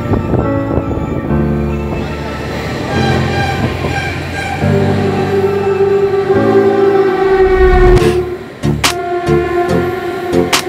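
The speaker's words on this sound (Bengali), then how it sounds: "তো ট্রেনে উঠে পড়ি, এর পরবর্তী স্টেশন মেছেদায় গিয়ে আবার আপনার সাথে কথা হবে।" The Tamralipta Express runs from Howrah to Digha, heard as a loud, continuous rumble of carriages on the rails with rhythmic clatter, a sustained horn-like tone and sharp metallic clanks near the end.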